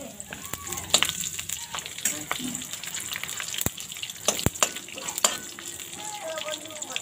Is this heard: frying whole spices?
yes